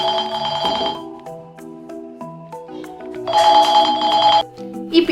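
A telephone rings unanswered with a repeating electronic ringtone melody. Loud bursts of ringing alternate with softer tonal stretches, with no talk over it.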